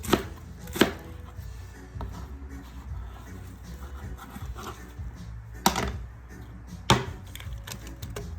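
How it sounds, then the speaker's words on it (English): Knife chopping vegetables into big chunks on a board: a few loud, sharp thuds spread out, with softer cutting and scraping sounds in between, close up. "I'm just cutting it in big chunks"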